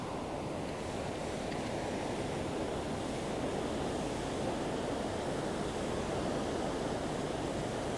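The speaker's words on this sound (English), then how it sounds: "And he's going straight across that white water, Austin" Fast white water rushes down a river where pike are fished from a boat, a loud, continuous, even roar with no other sounds over it.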